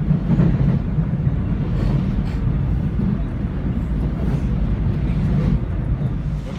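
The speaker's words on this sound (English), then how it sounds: "Oh, I hear a train, maybe it was us." A Seoul subway train rumbling steadily, a loud continuous low roar of the moving carriage heard from close by, with no talking over it.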